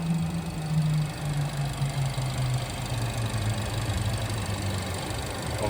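An Omoda 5 car engine runs under the open hood, a steady, close, continuous idle hum with a low rumble and no voices.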